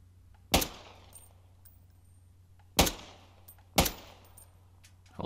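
Three sharp pistol shots in the video game Modern Warfare 2 crack out at uneven intervals, each loud and close with a brief ringing tail, and no voices in between.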